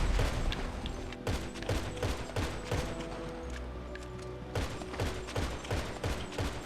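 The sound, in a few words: gunfire in a PS4 video game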